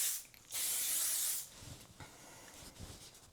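A can of hairspray gives a steady aerosol hiss of about a second during a get-ready routine, followed by softer rustling and handling noises.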